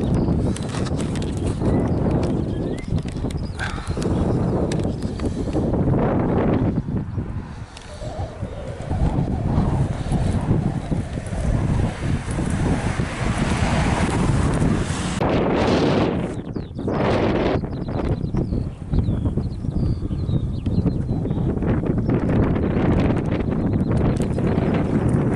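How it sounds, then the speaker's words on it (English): Strong gusting wind near the dunes on Holy Island of Lindisfarne buffets the microphone with loud, rumbling roars that rise and fall over a long stretch, no talking. "It's going to be a windy one again."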